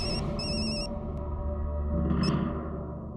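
A telephone rings in a home with repeated electronic chirping bursts: two short rings, then another after a pause. A steady low hum runs underneath throughout.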